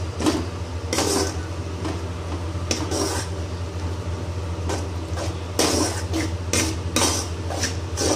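A spatula scrapes and clatters against a pan while spices are stirred into bottle gourd, giving repeated metallic strokes over a steady low hum, close and fairly loud, with no speech.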